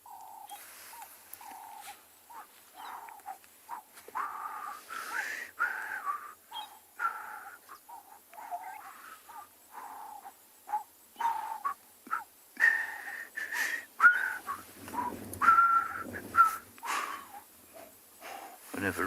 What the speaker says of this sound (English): Lovely sound of the doves calling.